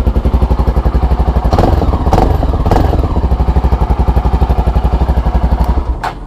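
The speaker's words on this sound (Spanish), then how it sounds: "El motor suena muy lindo." A motorcycle engine idles loudly up close with a throbbing, even pulse, briefly revving and clattering before settling back down.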